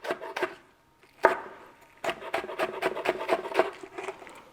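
A knife cuts red Italian garlic on the bias on a wooden board, giving a run of quick, crisp close-up chops after a few isolated cuts and a brief pause, with no voices.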